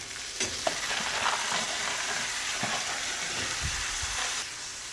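Moth beans tossed into a pan with onion and tomato, frying with a steady, close sizzle and occasional scraping stirs throughout, no voices.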